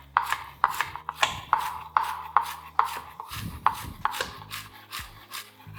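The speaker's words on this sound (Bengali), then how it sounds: "পেঁয়াজ পাতাও চপ করে নিচ্ছি।" Knife chopping spring onion greens on a board for a vegetable soup, a steady series of about a dozen crisp, close chops in a regular rhythm, with a low hum from the stove beneath.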